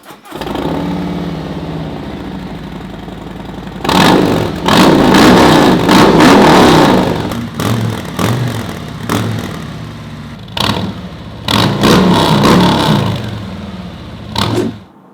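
Harley-Davidson Touring motorcycle fitted with a new exhaust, firing up and idling low, then revving hard in repeated loud blips close by with brief dips between throttle bursts.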